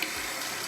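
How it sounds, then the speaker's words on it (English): Water runs into the empty body of a Fluval FX4 aquarium canister filter, a steady close rushing pour with no pauses. "I'm going to fill it with some water."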